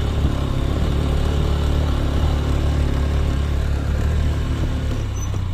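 A Honda Livo 110cc motorcycle carries a pillion rider and luggage on a steep road climb. Its steady engine drone and wind rumble stay loud and continuous throughout, with no voices.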